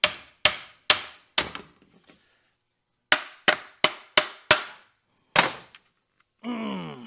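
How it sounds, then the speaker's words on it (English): A hammer pounds a stuck part during a BMW-to-Mustang chassis swap on a budget rat rod: about ten sharp, ringing blows in two quick bursts separated by a pause, followed by a short groaning sound. "Let's hit it with a hammer, see what happens."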